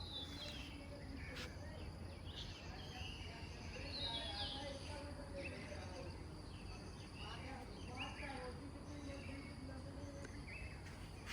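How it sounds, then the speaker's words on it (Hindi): Birds chirp and call outdoors at Shivpuri near Haridwar, a steady busy chorus with scattered higher twitters over constant insect buzz and low background noise, continuing throughout. "जो ये पक्षी बोल रहे हैं ना"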